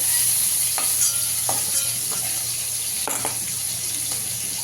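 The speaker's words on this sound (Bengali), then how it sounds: "চিংড়ি মাছটাও ভাজা হয়ে গেছে, তুলে নেবো।" Prawns sizzling in oil, a bright continuous frying hiss with several light stirring scrapes spaced across it, fairly close and steady.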